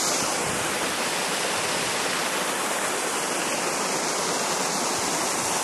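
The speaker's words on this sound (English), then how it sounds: "we just pulled over because we saw the cute little waterfalls in the mountain" Small mountain waterfalls beside a winding road in Ireland in light rain, heard as a constant, dense rush of splashing water, steady and fairly close, with no talking.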